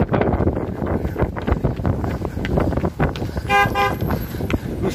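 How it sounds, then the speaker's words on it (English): A car horn honks briefly in a couple of quick toots, heard at a distance over heavy wind rumble against the microphone. "Who's honking?"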